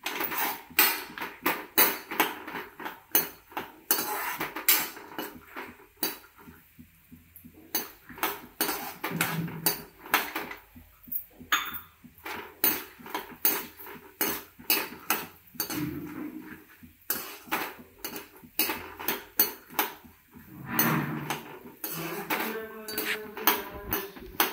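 Peanuts go into a pan of roasting fenugreek seeds for gongura pickle, producing dense, close rattling and clattering against metal in uneven bursts, with quieter gaps.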